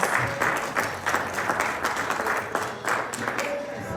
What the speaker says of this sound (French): And we clap for Jesus Christ.